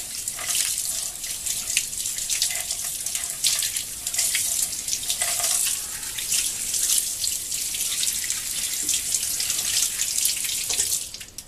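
Bicycle chain rinsed under a running sink tap, a steady close splash and hiss of water broken by irregular clinks and dripping as the chain moves in the stream.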